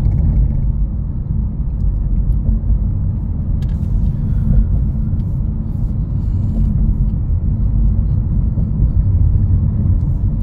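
A 2021 Honda HR-V Sport AWD pulling away and cruising, a steady low road-and-engine rumble throughout with no talk and little change in level.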